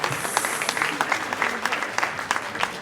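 Audience applause at a social-centre debate with municipal candidates in La Rochelle, a steady wash of many hands clapping for about three seconds, fairly close and full, with no talk over it.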